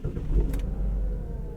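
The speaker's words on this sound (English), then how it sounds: "Turn the key on, go ahead and start it up." A car engine starts with the turn of a key, catching after a brief click and settling into a steady, close idle rumble.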